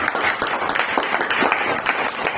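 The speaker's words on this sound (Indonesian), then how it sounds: "Sekali lagi beri tepuk tangan kepada beliau." A crowd applauds with a dense, steady patter of many hands clapping, moderately loud and continuous.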